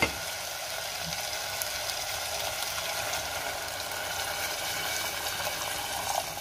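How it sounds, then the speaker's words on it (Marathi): Steady bubbling sizzle after water goes into a pan of frying mung dal and potatoes, a continuous moderate wash of frying noise with a small splash near the end. "आता आपण पाणी घालूया।"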